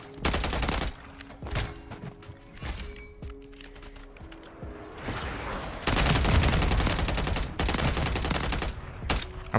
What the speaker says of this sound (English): I'm putting bullets into every single one of them.